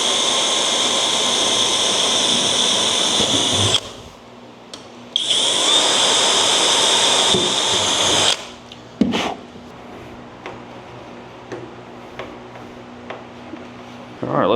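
A power drill driving fasteners on a T-Bucket hot rod build whines loudly in two long bursts separated by a pause, followed by quieter clicks and handling noises.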